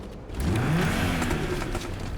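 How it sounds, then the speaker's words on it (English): The Revolver sports car engine in Fortnite cranks and fires up, settling into a steady rumbling idle, loud and close. "quick mention for when it starts up"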